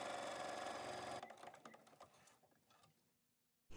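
A sewing machine stitches the waistband casing of pajama pants, running with a steady close whir before slowing and trailing off into quieter mechanical clatter and a near-silent pause.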